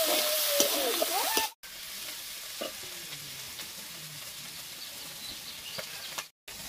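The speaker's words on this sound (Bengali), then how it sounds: "চিংড়ি মাছটা ভাজা হয়ে গেছে, তুলে নিচ্ছি।" Prawns fry in a pan with a constant bright sizzle, broken by brief stirring scrapes, then a quieter steady frying hiss continues with faint background chirps.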